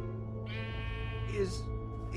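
Sheep bleating in the video game Minecraft Story Mode, one wavering cartoonish bleat over a steady game background hum, followed by a higher short call.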